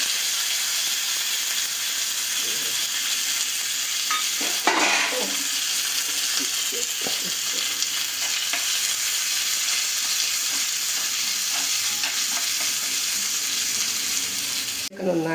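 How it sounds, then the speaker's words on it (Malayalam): Onions fry in a hot pan with mustard seeds, fenugreek and curry leaves for a fish curry, giving a steady, close, loud sizzle broken by scraping stirring strokes. "ഇനി നമുക്കതിലേക്ക് ഉള്ളി മൂപ്പിച്ച് ഇട്ട് കൊടുക്കാം"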